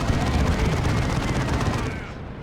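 A Warhammer 40,000: Dawn of War 2 battle erupts with a grenade blast amid dense, loud gunfire and explosions, a continuous close barrage that tapers off slightly at the end.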